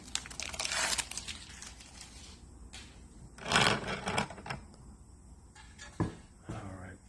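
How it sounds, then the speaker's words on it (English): Adhesive tape peeled from the magnet gap of a Crossfire C7 18-inch subwoofer during a recone, giving several bursts of crackling, ripping noise with quiet pauses between them, close and moderately loud. "So now we're going to pull this tape off and see what we got in the gap"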